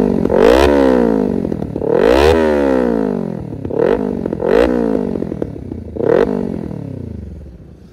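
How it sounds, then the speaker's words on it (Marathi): A Kawasaki Ninja 300 (300 cc) motorcycle with a dirty exhaust silencer revs loudly and close, the engine blipped about five times in sharp rises and falls, with a brief idle between pulls. "तिचा एक्झॉस्ट तुम्हाला दाखवतो मी."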